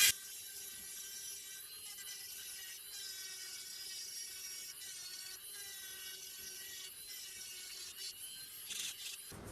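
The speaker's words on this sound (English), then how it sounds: "We're finished with our hard sintered diamond burr" Sintered diamond burr grinding Queensland boulder opal, a steady high-pitched whine with faint scratchy grinding that holds evenly throughout, close and fairly quiet, with a brief louder burst near the end and no talking.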